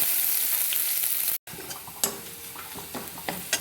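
Onion frying in oil with crackled mustard seeds, cumin and curry leaves, a loud bright sizzle broken by a brief cut, then a continuous crackle with occasional stirring scrapes.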